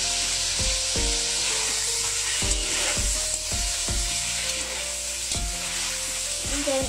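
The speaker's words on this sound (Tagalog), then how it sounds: "magluluto po kami ng chicken with cauliflower" Chicken with cauliflower sizzles loudly in a pan, a steady frying hiss punctuated by regular clacking strokes of a wooden utensil scraping and stirring, close and continuous, with no talking.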